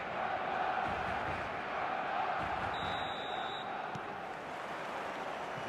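A simulated stadium crowd in the eFootball soccer video game keeps up a steady, loud, broad roar of cheering throughout, with a brief whistle-like tone partway through.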